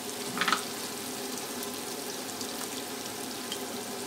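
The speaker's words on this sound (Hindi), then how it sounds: "अदरक लहसुन को तब तक भुनेंगे जब तक इसकी अच्छी सी खुशबू आने लगे" Ginger and garlic fry in a pan with a soft, continuous sizzle, quiet and steady, with a brief burst of crackle near the start and no talking.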